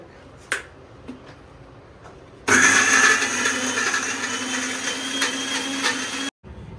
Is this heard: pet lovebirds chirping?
no